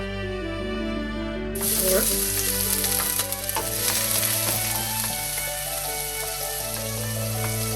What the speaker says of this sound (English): After you saute your garlic